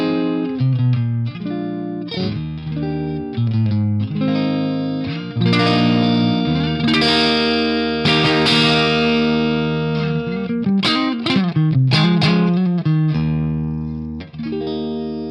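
Electric guitar played through the clean BT PT50A amp preset, a bright, lively tone with sustained chords and single notes carrying effects-like shimmer and reverb, continuous and close without talk.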